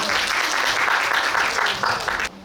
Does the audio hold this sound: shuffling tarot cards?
no